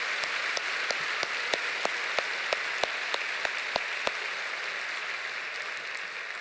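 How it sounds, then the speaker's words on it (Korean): A church congregation applauds during a Friday night worship service, a steady wash of many hands with a few sharper individual claps standing out near the front, sustained throughout without speech. "박수로 한번 쳐주세요."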